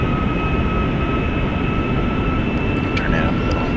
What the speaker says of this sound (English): Listen to the engines on this thing.